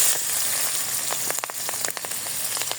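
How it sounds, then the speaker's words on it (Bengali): Chopped onion and green chilies hit hot oil in a pan just used for frying tilapia, giving a steady close sizzling hiss with scattered sharp crackles and pops throughout. "এখন আমি এই তেলের মধ্যে দিয়ে দেবো আমি যে পেঁয়াজ মরিচ।"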